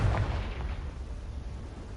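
A Confringo fire spell bursts into an explosion in the Hogwarts Legacy video game, one sharp heavy boom at the start that rumbles and fades away over two seconds.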